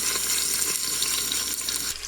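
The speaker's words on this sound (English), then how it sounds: "that's the sizzling you really want to hear" Chinese five-spice beef short ribs brown in an Instant Pot with a steady, close, bright sizzle and crackle that runs without a break.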